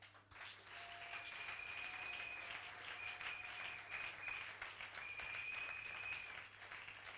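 A church congregation gives sustained applause, a steady, fairly faint wash of clapping lasting several seconds, with a thin held keyboard tone running beneath it.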